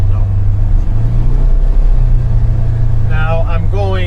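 A Polaris Ranger UTV engine running at about 3,000 RPM while moving slowly, a loud, close, steady low rumble, with someone speaking over it near the end.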